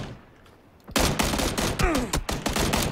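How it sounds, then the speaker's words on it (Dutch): Gunfire in PUBG battle royale game: after a quiet start, a sudden dense burst of rapid, loud automatic shots and cracks fills the rest, with sharp individual reports standing out and no voice over it. "Schoten vanuit het noordwest."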